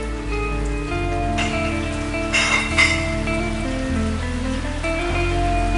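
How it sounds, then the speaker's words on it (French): Rain falling in Martinique, a steady patter of drops on surfaces with a brief louder splashy burst partway through, heard under a constant low hum. "Le lendemain matin, surprise, il pleut."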